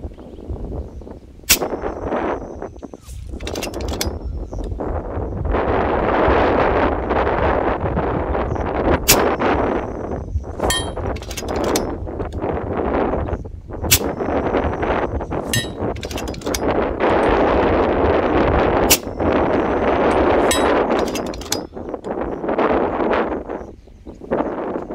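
Strong gusts buffet the microphone at an outdoor air-rifle shooting range, a roaring, surging wind rumble, broken by several sharp shots from a rifle firing .218 slugs.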